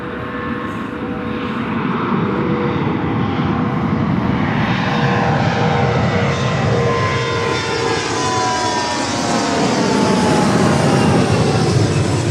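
Airbus A319 jet airliner at LAX, a loud, sustained engine roar with a whining tone that slowly shifts in pitch as it passes fairly close, unbroken by any voices.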